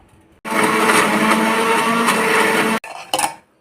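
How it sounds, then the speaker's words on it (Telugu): A mixer grinder runs loud and close, coarsely grinding ajwain seeds with salt in one steady burst of a little over two seconds, then stops and gives a short second pulse. "ఇలా కచ్చా పిచ్చా మిక్సీ పట్టేసుకున్నాను"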